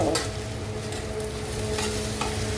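Chopped vegetables frying in oil in a pan, a steady close sizzle with a few stirring scrapes and no talk.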